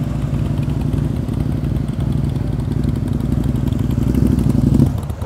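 A Harley-Davidson motorcycle engine on freshly fitted new tyres runs steadily in a low, loping rumble that swells slightly toward the end before cutting off abruptly, with no talk over it.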